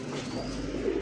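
Pigeons at a pigeon market giving a low, close, continuous cooing murmur through the whole brief moment, with faint background noise and no clear talk.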